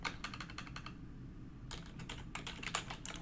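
Typing a modinfo command on a computer keyboard, faint close bursts of quick key clicks with a short pause in the middle, no voices.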